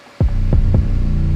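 An 808 bass sample plays in FL Studio, hitting three times in quick succession. The deep, booming notes have downward pitch slides and a sustained low hum between hits.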